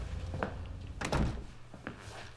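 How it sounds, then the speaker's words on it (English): A front door at home being opened, a few dull thunks and knocks spread across a couple of seconds, close by and fairly loud. "Josh, could you get the door?"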